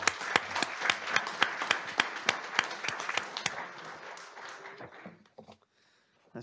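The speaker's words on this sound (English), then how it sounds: "Let's give them a round of applause." Audience at a school board meeting applauding, a steady patter of claps from a modest room that thins out and fades to near silence after about five seconds.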